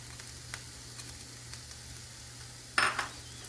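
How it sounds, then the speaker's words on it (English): Onion sautéing in a pan for an omelet: a soft, steady sizzle with faint taps, then a brief louder clatter of cookware near the end. "I'm going to go ahead and put the onion in"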